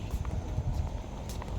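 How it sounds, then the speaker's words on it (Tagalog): Hooves of a horse pulling a kalesa carriage clip-clop in a steady rhythm at moderate distance, quiet and blended with street background noise. "Kabayo, may kalesa."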